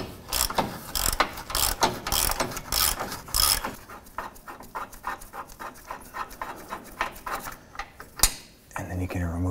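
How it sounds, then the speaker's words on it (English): Ratchet with a shallow socket loosening a control arm bolt on a 2007-2017 Jeep Wrangler: rapid, loud, close clicking in uneven bursts, then lighter scattered clicks and mechanical rubbing, ending in a brief burst of speech. "millimeter shallow socket ratchet, I'm gonna go ahead and loosen this bolt"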